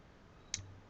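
A single computer mouse click while working in Visual C++, a short faint tick standing alone against quiet room noise.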